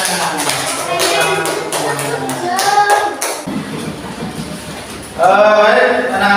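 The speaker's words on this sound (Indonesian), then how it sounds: "Ada tepuk tangan semuanya." A classroom of students claps hands together in a burst of fairly loud, rhythmic clapping, with a teacher's voice and children's talk over it.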